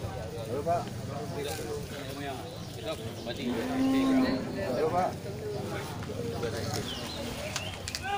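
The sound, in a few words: Aceh cattle at an animal market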